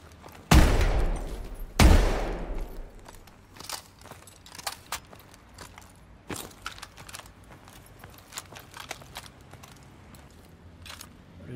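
Shotgun gunfire in the video game Call of Duty Advanced Warfare: two heavy, booming blasts near the start, then scattered lighter cracks, clicks and clatter over a quieter background of battle.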